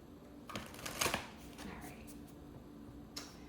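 A quick riffle of cards being shuffled, a short crisp flutter near the mic, with a few soft taps before and after.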